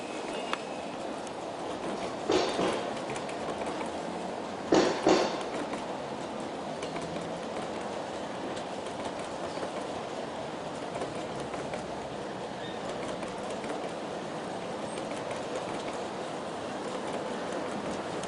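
USA Trains SD70 model locomotives pulling intermodal cars down a grade on an outdoor garden layout give a steady, low rolling rumble, with two brief louder clatters early on and no one talking.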